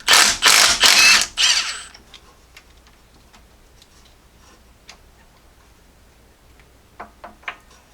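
A ratchet works a 5/8 camshaft bolt on a Jeep Cherokee XJ 4.0L engine: a few loud, close bursts of rapid clicking, then faint scattered ticks and clinks.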